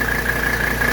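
A 1985 Mercedes 300D diesel engine idles steadily up close while warming to temperature, a constant low rumble with a thin whine riding on top.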